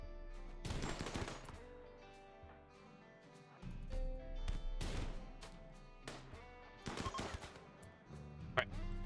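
Scattered gunshots from a RimWorld tribal raid, a handful of sharp separate cracks spread across the span with quiet gaps between them, fairly faint overall.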